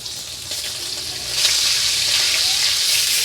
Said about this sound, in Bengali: মাছটাকে আমি উল্টে পাল্টে এবার ভেজে নেব লাল লাল করে।